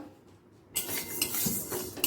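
Dry mung lentils pour into a metal pot with a sudden rattling hiss, grains clinking and skittering against the pan for a couple of seconds.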